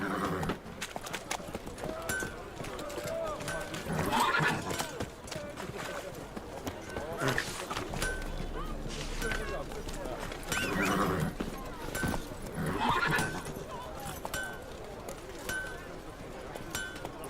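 Roach the horse galloping and neighing in Witcher 3, with rhythmic hoofbeats and several whinnies mixed among game music and effects, while a person talks over it.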